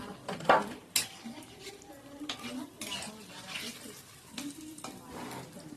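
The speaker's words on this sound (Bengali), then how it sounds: "এই যে বেগুনি মা ভাজছে" Eggplant fritters (beguni) fry in oil in a home kitchen. A faint sizzle runs under scattered utensil clinks and stirring knocks, with soft voices in the background.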